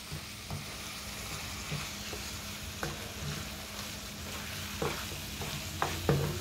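Taco pie filling frying in a pan hisses softly and steadily while a spoon stirs it, producing scattered scrapes and knocks against the pan, close and quiet, with no one speaking.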